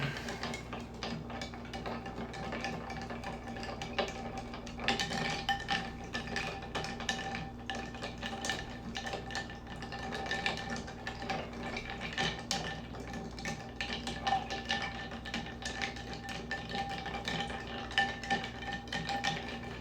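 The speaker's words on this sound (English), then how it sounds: "But if it's more just spirits, we are going to stir." A spirit-forward whiskey cocktail stirred with ice in a glass, producing a long run of soft rhythmic clinks and rattling ice, quiet and close, with no voices.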